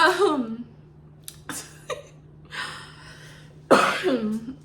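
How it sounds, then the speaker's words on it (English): A few harsh coughs and throat-clearing bursts separated by quiet pauses, close and loud, with breathy gasps between them. "It started out as a laugh and then the cough came"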